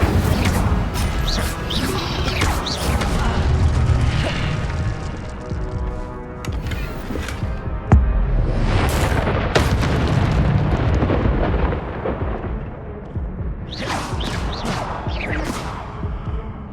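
Spell effects for Levioso, Accio and Incendio cast in the video game Hogwarts Legacy, a run of loud booming bursts and crackling magical whooshes, with sharp hits around the middle and later flares, no talk over them.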